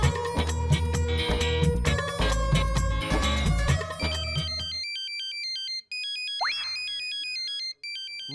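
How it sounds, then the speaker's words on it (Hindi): A mobile phone ringtone goes off in a silent exam classroom, a repeating electronic beeping melody that cuts in as loud background music ends, with a rising whoosh partway through. "ये किसका मोबाइल बजा?"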